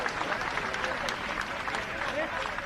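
Audience applause welcoming the Prime Minister at a public event, a steady continuous clapping wash from a crowd throughout.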